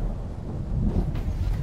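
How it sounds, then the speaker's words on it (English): Thunder in the video game Planetbase, a loud, low rumbling roll that swells and holds for a moment without a sharp crack. "Man, this thunder, I mean, it's loud."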